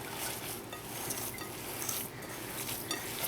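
Hands folding and squishing seasoned ground pork sausage meat in a bowl, a soft, steady wet churning with faint clicks and slaps, quiet and close with no voices.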